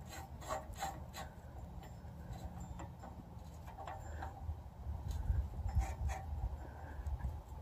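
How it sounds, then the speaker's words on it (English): A screw being tightened on a gooseneck trailer lock, with quiet, close scraping and rubbing strokes repeated in an uneven rhythm and no talking. "put your screw back in, and tighten it all the way down"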